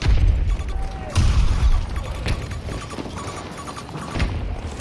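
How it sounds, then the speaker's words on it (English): A grenade goes off in the shooter game Battlefield 2042, with deep booming thumps and crashes amid battlefield noise, several bursts spread across the stretch. "Grenade going out!"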